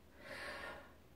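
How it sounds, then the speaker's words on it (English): A deep breath drawn in during a calm tapping exercise, one slow airy inhale swelling to a peak midway and then easing off, faint and close. "So take your deep breath."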